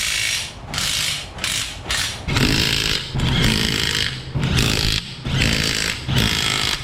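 A WAKYME 1/2-inch impact wrench hammering wheel lug nuts tight in an auto shop, a series of about eight loud rattling bursts of a second or so each, separated by brief gaps, with no speech.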